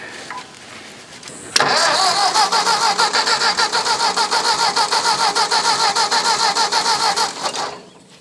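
A rare Ford farm tractor engine cranks briefly, catches with a sudden loud start, then runs with a steady, slightly pulsing mid-pitched chug for several seconds before dying away, with a faint voice beforehand.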